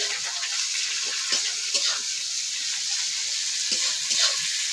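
Green chilli and onion frying in a pan of hot oil with bay leaf, a steady broadband sizzle with occasional crackles and light stirring scrapes throughout.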